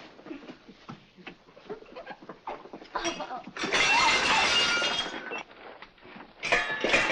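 Glass and crockery shatter in a loud crash that spills into a long scatter of tinkling shards, followed by more clinks, after some scattered knocks and bumps.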